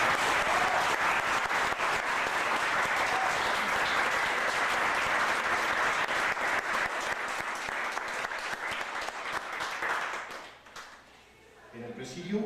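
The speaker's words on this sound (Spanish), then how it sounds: "solicito un fuerte y merecido aplauso" Loud, sustained applause from a university faculty audience greets a professor at a book presentation, steady dense clapping for about ten seconds before fading quickly, then a few scattered claps.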